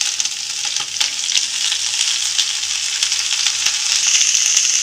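Shredded cabbage frying in a hot pan with chillies for cabbage paratha filling, making a loud, close, continuous sizzle with a few soft stirring knocks, no talking.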